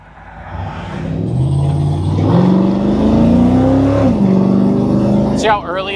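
A car with a small-block Chevy engine on an Edelbrock ProFlow fuel injection setup drives around a corner, engine note rising and shifting steadily up close under a voice talking.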